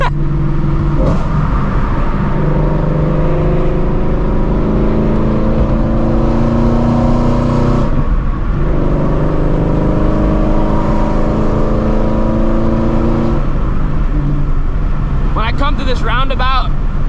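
Shelby GT350 accelerating with its engine droning loudly in rising sweeps, a clear break at each gear change, then a short rev burst at the end; someone talks over the engine in places.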